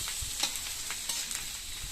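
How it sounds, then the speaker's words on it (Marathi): Kudva flower vegetable sizzles steadily as it is tempered onto onions in hot oil on a tava, a continuous close frying hiss with faint stirring scrapes. "तिला एक फोडणी म्हणून एक चरका म्हणून कांद्यावर द्यायचा आणि मग ती तेलात अशी फोडणी दिल्यानंतर त्या भाजीला अजून चव येते"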